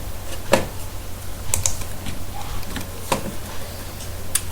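Keystrokes on a computer keyboard as an ID, password and captcha are entered for a bank login, a sparse, irregular run of close clicks over a steady low hum, with no talking.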